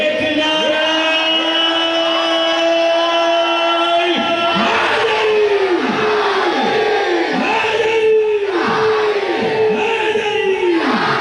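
Large crowd at a Muharram religious gathering in Jamnagar shouting a slogan in unison, a series of loud rhythmic chanted bursts in response to a leader's call, continuous and close with a rising roar throughout.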